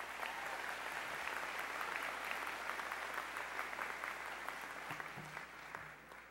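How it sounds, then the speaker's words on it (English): Sustained audience applause at a 2015 SUNY Poly commencement ceremony, a broad, steady wash of many hands clapping that carries on evenly and tapers slightly at the end. "Please give her another round of applause."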